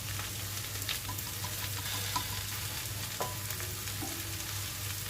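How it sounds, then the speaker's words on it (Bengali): Mango pieces are stirred in mustard oil with turmeric and salt, a soft continuous sizzle with light clicks of the spoon against the pan. "এবার আমগুলোর মধ্যে হলুদ আর নুনটা ভালো করে মিশিয়ে দিচ্ছি।"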